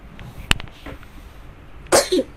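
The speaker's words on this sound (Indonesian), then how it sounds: "Sebentar gue batuk dulu." A person coughing, one sharp burst followed after a pause by a harsher double cough, close and loud in a quiet room.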